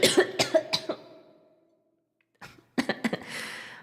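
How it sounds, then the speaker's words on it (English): Someone coughing in a string of sharp, close bursts, a pause, then another rapid cluster of coughs. "Well, I'm still coughing."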